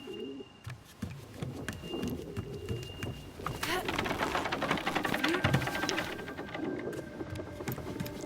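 Seagulls call in the island exploration game Submerged: Hidden Depths, with repeated cooing bird calls over a busy ambient bed and clicking sounds, and a voice speaks at times.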